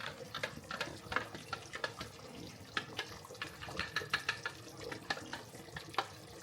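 Cornstarch is stirred into simmering gravy in a pot while making Jamaican-style chuck steak, giving repeated scraping, clinking spoon strokes in an irregular rhythm over a soft bubbling bed, close and moderately loud with no talking.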